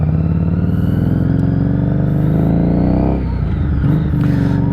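Harley-Davidson Street 500 motorcycle cruising in first gear on a night ride, a loud, steady close-up engine drone with harmonic rumble, briefly dipping around three seconds before resuming.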